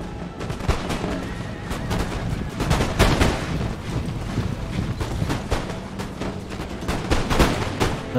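Dense musket volleys and scattered gunfire crackle continuously in a large Empire: Total War battle, with booming artillery-like hits layered over a steady battlefield din, sharp peaks recurring every second or so.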